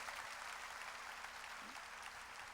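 A church congregation claps during a sermon, a steady, fairly faint wash of applause lasting the whole stretch without voices.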